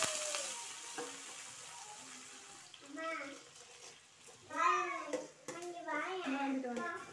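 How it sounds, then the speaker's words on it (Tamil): Chopped onions with salt sautéing in a pan in a home kitchen, a soft steady sizzle running beneath voices that talk over much of the stretch. "அதுக்கப்புறமா கட் பண்ணி வச்சுருந்த ஆனியன், உப்பு சேர்த்து நல்லா வதக்கி விட்டாச்சு."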